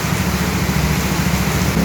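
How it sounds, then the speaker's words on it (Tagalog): Heavy rain pours steadily onto a flooded street in Dalandanan, Valenzuela, a dense, constant hiss with no pauses and a low rumble underneath, loud and close throughout. "Malakas na naman ang ulan"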